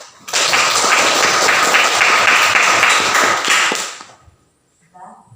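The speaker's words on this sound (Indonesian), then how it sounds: "Sekali lagi tepuk tangan." Group applause in a classroom guidance session starts abruptly, runs as a loud, close wash of clapping for nearly four seconds, then fades away, leaving near silence with a faint trailing voice.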